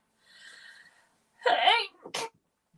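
A single loud sneeze with a sharp inhale build-up and explosive burst, preceded by a faint whiny vocal sound, close to the mic.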